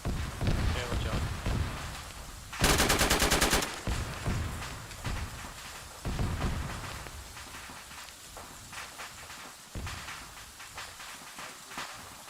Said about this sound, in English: I just shot into the smoke